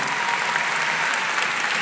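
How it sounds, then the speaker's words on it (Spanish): Audience applause at a live comedy show in an arena, a dense, steady wash of clapping that holds at full level from start to finish with no voices rising above it. "Aplausos para Junior Playboy"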